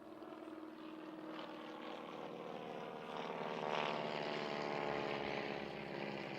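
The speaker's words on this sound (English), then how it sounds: "Just flying over here now is a Boeing Stearman and 2 Chipmunk." A Boeing Stearman biplane and two Chipmunk propeller planes pass overhead at an air show, giving a steady, full propeller drone that swells slightly midway and stays loud throughout, with no talk.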